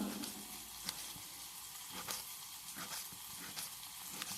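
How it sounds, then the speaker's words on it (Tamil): Mustard seeds, curry leaves, urad and chana dal, chili, tomato, onion, garlic and pepper sizzle steadily in oil in a pan, a constant close frying hiss broken by sharp crackles and pops, with no talking. "ஒரு பேனில் எண்ணெய் ஊற்றிட்டு கடுகு கருவேப்பிலை உளுத்தப்பருப்பு கடலப்பருப்பு மிளகா தக்காளி வெங்காயம் பூண்டுங்க மிளகு எல்லாமே போட்டு நல்லா வதக்கிட்டு"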